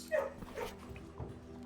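Dogs bark and yip inside a kennel in the video game Blue Prince, a few short close barks over a steady low background hum.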